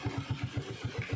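A motorcycle engine chugs close by at low revs, its even pulses thumping about eight times a second in a steady rhythm over a short stretch.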